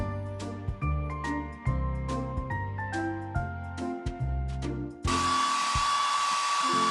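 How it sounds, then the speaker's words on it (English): A hair dryer in a Paw Patrol video game blows dry a pup, a steady whooshing hum that starts after a bouncy electronic music jingle and continues to the end, loud and close. "Tap the hairdryer to blow dry the pup's hair"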